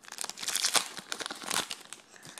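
Pokemon card booster pack wrapper being torn open, a close burst of crinkling and ripping foil with uneven bursts and short pauses, no talk.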